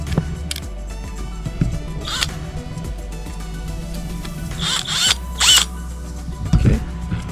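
A power drill whirs in short bursts while driving screws into a Cannon flush mount power port on a boat, with a steady low hum underneath and a few brief mechanical clicks and rattles.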